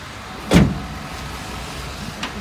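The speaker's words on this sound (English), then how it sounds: "The tailgate, is the tailgate functional, Eric?" The tailgate of a 2011 Ford F-250 pickup opens with one brief mechanical clunk and release, close by, followed by a fainter click.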